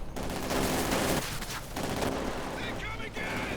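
MG-42 machine guns fire in the Company of Heroes 2 strategy game, dense bursts of gunfire layered with other battle noise, loud and continuous over the whole stretch.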